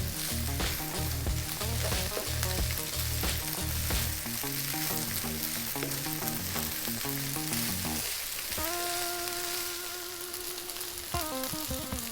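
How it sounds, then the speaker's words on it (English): Steady, crackling sizzle of rice with green vegetables frying in a hot pan, continuous and close, with some clinks and a pitched tone entering near the end. "That is your rice frying there."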